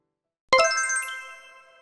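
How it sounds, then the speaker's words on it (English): A phone rings with a bright chiming tone that starts abruptly after a short silence and rings on alone, slowly fading. "hurry up and answer the phone"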